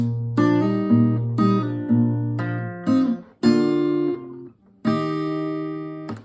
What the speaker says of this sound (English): a little transition here, a little fill that's really common in finger picking